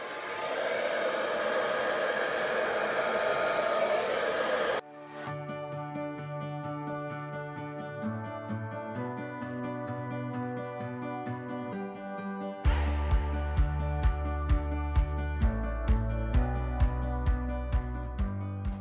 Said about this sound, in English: blow this out with my hairdryer